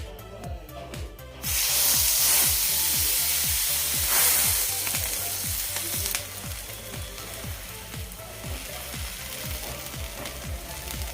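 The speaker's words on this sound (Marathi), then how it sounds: "तव्यावर भाजून घेते" Cheese garlic bread toasting on a griddle, a steady sizzle that swells into a loud spraying hiss, then settles, over a regular low ticking pulse.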